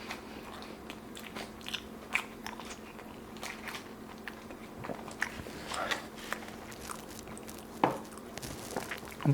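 Loaded steak supreme fries and tacos with guacamole and refried beans, a little dry, crunch under close bites, followed by steady wet chewing with sharp crisp snaps scattered across nine seconds.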